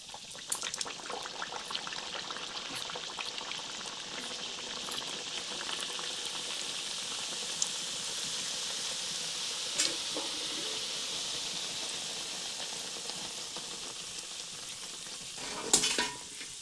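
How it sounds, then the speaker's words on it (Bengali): Pea-filled kachoris deep-frying in hot oil in a pan, a steady dense sizzle and bubbling throughout with occasional small clinks and stirring sounds, and a louder burst of spattering near the end. "কচুরিগুলি এক একটি গরম তেলের মধ্যে ছেড়ে ভালো করে ভেজে নিচ্ছি"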